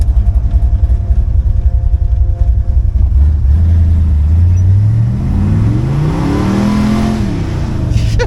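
A car engine revs and accelerates steadily through fourth gear at about 45 mph, its pitch climbing and then leveling off. The sound is loud and close, with a continuous rumble and no talk.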